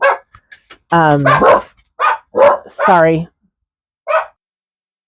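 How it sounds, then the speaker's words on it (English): Several household dogs bark in sharp, repeated bursts, fairly close and loud, with short yips between them; a person speaks briefly as well. "I have dogs."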